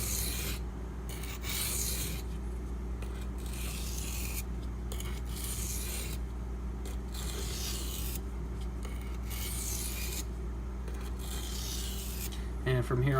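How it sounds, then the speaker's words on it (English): A Spyderco Native 5 knife with a Maxamet steel blade is rubbed against a sharpening stone to remove a burr. There are about eight steady, evenly spaced scraping strokes close up over a constant low background hum. "I'm going to go ahead and try to cut some of this burr off."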